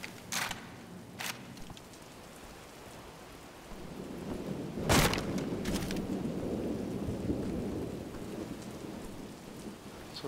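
Steady rain with a sharp thunderclap in Wolfenstein The New Order, rainfall swelling into a continuous wash after a few distant rumbles and one loud crack near the middle, no voices.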